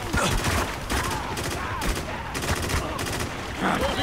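Heavy gunfire in the video game Spec Ops: The Line, a sustained, loud fusillade of overlapping shots in dense bursts that carries through the whole stretch.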